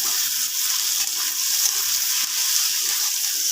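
Potatoes and fried eggs sizzle in a pan being stirred, a continuous close, loud hiss of frying oil with no voices.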